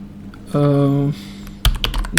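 A short hum gives way to a quick run of keyboard clicks near the end, a few crisp keystrokes close by.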